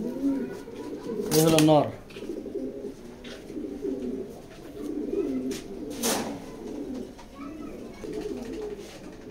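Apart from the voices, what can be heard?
racing pigeons cooing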